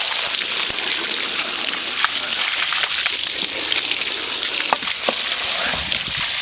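Garden hose spraying water over a battery outdoors, a steady, loud broadband hiss and splash running continuously with brief spattering bursts, no talking.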